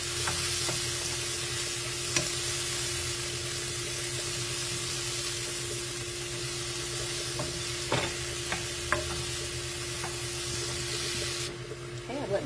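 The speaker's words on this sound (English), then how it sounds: "My mushrooms cook for 5 minutes on medium heat" Washed, sliced mushrooms fry in a skillet over medium heat with a constant even sizzle, and occasional utensil scrapes and taps mark frequent stirring.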